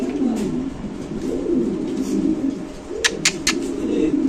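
At a pigeon market, pigeons coo in low, rolling phrases close by, with a few sharp ticks or clicks near the end.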